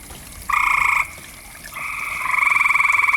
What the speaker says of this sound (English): these frogs over here, about as big as your hand